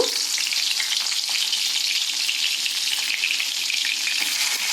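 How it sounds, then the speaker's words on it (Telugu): Chopped onions and curry leaves go into hot oil with cumin seeds for a beans and tomato curry, giving a loud, steady, close sizzle that fills the whole stretch without pause or voices. "ఆయిల్ వేడి అయ్యాక మనం కట్ చేసుకున్న ఉల్లిపాయ ముక్కలు వేసుకుందాము"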